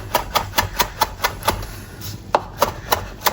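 Knife chopping fresh parsley leaves on a board, a steady run of crisp close taps about four per second with a brief pause before the rhythm resumes.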